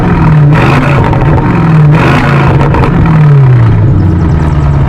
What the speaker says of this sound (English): when you put it in sport mode, the valves fully open and you can hear even some kind of bubbles